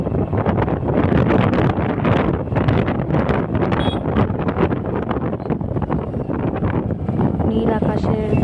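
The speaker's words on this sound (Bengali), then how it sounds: "আর এদিকে হালকা হালকা বাতাসও দিচ্ছে।" Light wind blows outdoors under an open sky, buffeting the microphone in loud, continuous rumbling gusts with rustling throughout.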